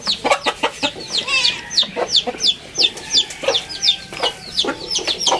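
Chickens cluck in quick, overlapping bursts, several birds close by making a busy, continuous farmyard chatter.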